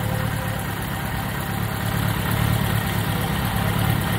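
A 1983 Kawasaki Spectre 1100 motorcycle engine idles steadily after a carburetor sync, with a loud, even low rumble and a constant mechanical hum throughout, no voices.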